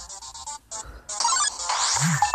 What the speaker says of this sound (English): Stop doing that, you stupid phone.